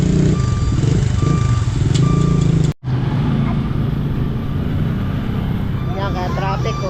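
A truck stuck in market-day traffic sounds loud, repeating reversing beeps over a steady engine rumble, with surrounding road noise and voices talking throughout.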